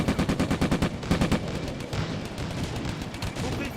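Machine guns fire in the World War II video game Combat Mission: Afrika Korps, with rapid bursts of fairly loud shots that give way to a dense, continuous rumble of distant battle gunfire.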